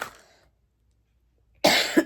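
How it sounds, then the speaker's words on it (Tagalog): A short, sharp cough close to the microphone, following a fading breath and a moment of silence. "Ayan, inubo na ako. May ubo talaga ako."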